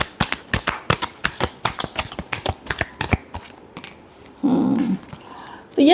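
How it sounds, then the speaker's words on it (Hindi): Tarot cards shuffled by hand in a rapid, crisp riffle of papery flicks for about three seconds, followed by softer handling, with a brief low voice-like sound near the end. "Last shuffle."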